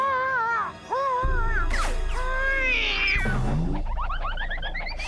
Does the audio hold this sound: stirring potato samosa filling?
no